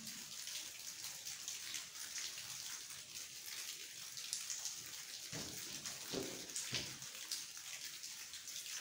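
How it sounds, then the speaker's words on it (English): Water drips with a few distinct plops over a steady background of trickling, splashing water inside an abandoned railway tunnel in Wales, resonant. "That's the dripping bit."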